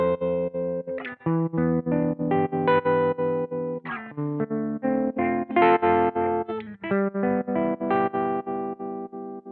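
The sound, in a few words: guitar tremolo through BOSS FDR-1 Deluxe Reverb pedal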